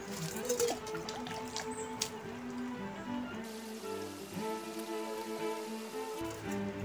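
Water drips and trickles out of the bottom of a homemade ash and sand filter, a soft irregular patter of drops over a low continuous background.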